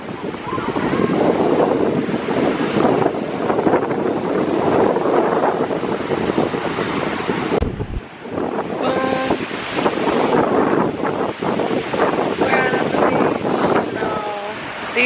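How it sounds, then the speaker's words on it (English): Ocean waves wash onto a beach under steady wind, a broad continuous roar with a brief lull midway; a few faint voice-like tones rise near the end. "These waves got me"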